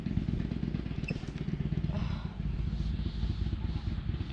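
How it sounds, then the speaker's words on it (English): A motorcycle rumbles close by near a converted cargo van, its low engine throb steady and loud for several seconds with a slight rise in pitch partway through. "somebody up there with their motorcycle"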